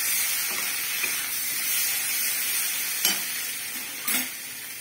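Spice masala being sautéed in a pan for a silver carp curry, a steady hissing sizzle close by with a few soft scrapes and knocks of the spoon, no voices.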